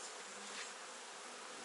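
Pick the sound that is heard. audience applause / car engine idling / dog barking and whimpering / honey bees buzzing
honey bees buzzing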